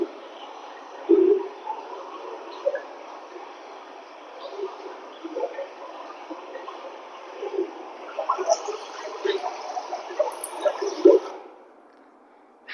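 Water sounds demonstrated for children in a primary classroom: steady trickling and splashing with small drips, sustained for about eleven seconds at moderate level, with a few louder splashes near the start and end, then it stops.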